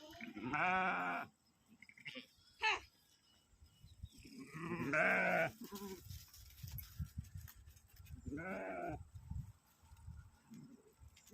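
Sheep bleating in their pen in the evening, several separate wavering calls spaced a few seconds apart, with quiet rustling and movement between them.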